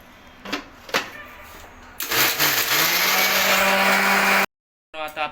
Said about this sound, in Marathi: हे आता मिक्सरमध्ये मित्रांनो आपण वाटण करणार आहोत त्याचा कालवणासाठी